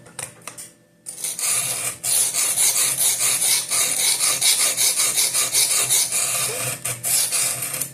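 The edge of a Boker Magnum Stealth tactical knife is ground on a sharpener, giving a steady, loud close rasping after a short quiet start, with brief dips as the blade is repositioned.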